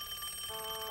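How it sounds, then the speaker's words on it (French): A telephone in the Madeline children's cartoon rings with a steady, bright electronic trill for under a second, heard alone at moderate volume. "excusez-moi, ce téléphone vient à point nommé."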